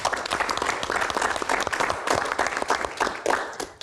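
Audience applause at a Q&A session, a dense, steady wash of many hands clapping together, sustained and fairly loud throughout with no talk over it.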